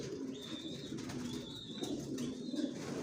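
Racing pigeons in a loft coo softly in a slow, repeated rhythm over a steady low background hum.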